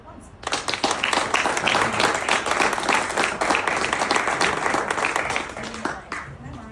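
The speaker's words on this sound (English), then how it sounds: "let's give Warren and Kendall a big round of applause" An audience at a breakfast business seminar breaks into a full round of applause, dense steady clapping that starts abruptly and holds loud for several seconds before tapering off.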